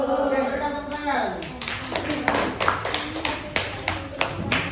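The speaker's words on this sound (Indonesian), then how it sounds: "Oke, berikan tepuk tangan." Students in a classroom break into clapping, a run of sharp, fairly even claps that begins as a voice finishes speaking and continues steadily to the end.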